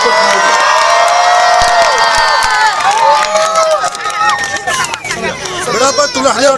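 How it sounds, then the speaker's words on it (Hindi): Loud crowd at a public gathering where a panel of candidates honours a guest, cheering and shouting with voices of children and adults mixed in, steady and close throughout, with possible applause underneath. "जोरदार तालियां"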